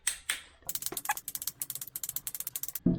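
Oil cooler bolts on a V6 diesel engine being torqued to 11 newton meters with a new gasket, a rapid run of sharp, regular ratchet clicks up close, preceded by a few handling knocks and ending with a clunk.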